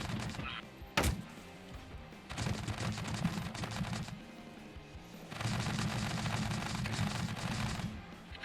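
Grenade launcher fire in the video game Scrap Mechanic during a tank battle: a sharp single blast, then two long, loud stretches of rapid, rumbling explosive bursts.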